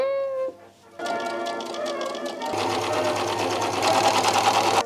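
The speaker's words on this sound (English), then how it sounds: "Time to remove this pocket and then sew this down." A sewing machine stitches a seam on a pleated skirt, running with rapid mechanical chattering and a buzzing drone. A tonal hum comes first, then the machine gets going, continuing steadily and growing a bit louder.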